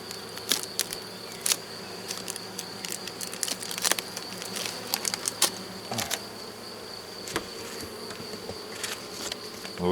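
Honeybees buzz steadily around an opened beehive at a woodland apiary in June, a dense close swarm hum with passing bees droning near and away, and occasional clicks of hive frames being handled.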